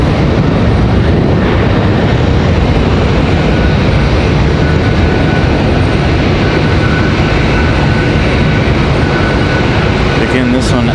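An airliner departs Raleigh-Durham International for Boston, its loud, dense engine roar filling the scene at a constant level with speech mixed in over it.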